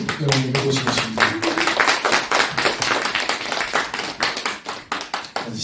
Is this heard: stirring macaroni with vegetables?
no